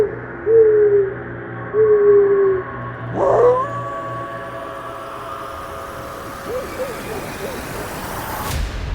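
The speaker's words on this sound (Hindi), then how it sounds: "बाहर से उल्लू और कुत्तों की आवाजें सुनाई दे रही थीं।" Owls hoot outside at night, two long calls followed by a shorter one, with fainter dog barks and howls after them against a quiet, eerie background.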